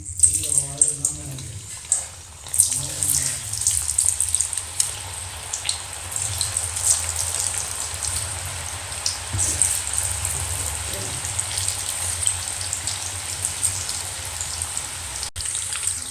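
Papaya pieces deep frying in hot oil over a medium flame, a steady bright sizzle and crackle with faint bubbling that runs throughout, with a voice talking over the start.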